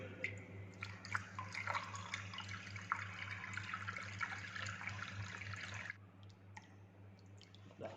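Water pours and drips steadily into a centrifugal pump casing during priming in a fluid mechanics lab, a close splashing trickle over a low machine hum that eases near the end.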